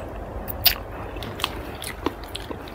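Biting and chewing soy-sauce pickled clams, which are salty-sweet and slightly crunchy, with a few small crisp crunches over quiet mouth sounds and no speech.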